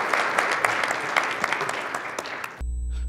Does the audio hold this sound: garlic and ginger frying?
no